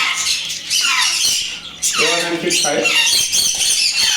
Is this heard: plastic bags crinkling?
no